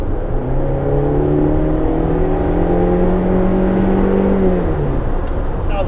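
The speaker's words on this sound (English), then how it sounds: "I'm going to give it a little gas." A 2018 Honda CR-V EX-L AWD turbo engine pulls hard in sport mode on a highway, a steady rising drone with gliding engine tones under constant road and wind noise, loud and close.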